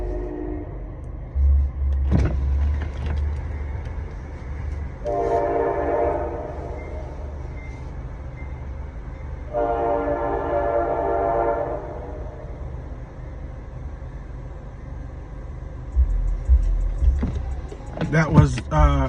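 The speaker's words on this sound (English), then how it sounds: "that train just is, it's prophetic the way it comes past" A train rumbles past, its horn sounding two long blasts in the middle, with a low rolling roar that swells again near the end; no speech over it.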